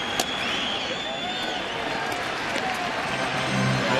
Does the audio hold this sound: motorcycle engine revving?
no